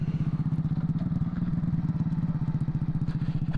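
A CT70 chopper minibike, a rat-rod build with only a rear brake, runs under a rider, its small single-cylinder engine putting out a fast, steady, thumping pulse close to the listener.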